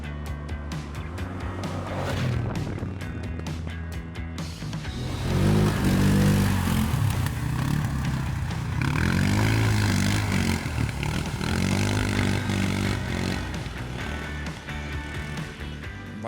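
A CFMoto Cforce 400 4x4 ATV on 25-inch wheels riding off-road, its engine droning loud and steady throughout, rising in pitch and swelling as it accelerates partway through, with no one speaking.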